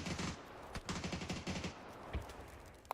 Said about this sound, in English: Shots come out from Nalup onto Pablo